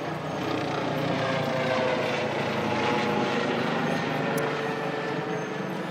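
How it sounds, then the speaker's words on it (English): A helicopter flies overhead in rural Iowa, its steady, loud rotor and engine roar holding constant throughout with no voices. "I'm going to let that helicopter fly over."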